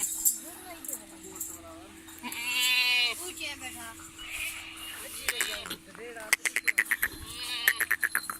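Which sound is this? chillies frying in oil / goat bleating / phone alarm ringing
goat bleating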